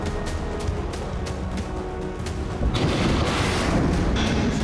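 Cruise missile strikes in the war between Israel and Hezbollah land as heavy, rumbling blasts; a dense roar swells suddenly partway through and stays loud and continuous.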